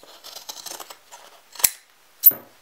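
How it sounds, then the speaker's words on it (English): Scissors cut through canvas in a run of short crisp snips, then two sharper, louder closing snaps, close by with no talk. "Scissors"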